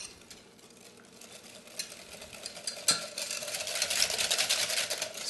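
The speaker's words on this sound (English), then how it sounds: "And we're just going to mix this up well." A utensil stirring a coleslaw dressing made with half and half in a bowl, a soft continuous swishing and scraping that quickens and grows louder toward the end.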